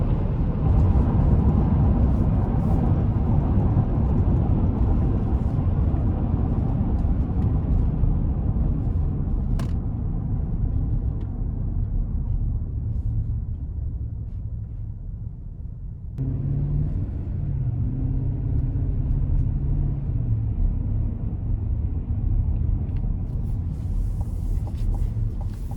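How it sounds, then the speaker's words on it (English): Wind and road noise inside a 2025 Chevy Suburban LS with a 5.3 V8, cruising on the interstate: a steady low rumble and hush of tire drone throughout, dipping briefly and then returning, with no talk. "Wind noise is very good. Road noise very good as well."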